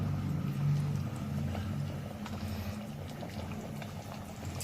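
Chicken curry being mixed in a pan over a high gas flame, a faint continuous sizzle and bubbling with soft stirring scrapes, close, no talk.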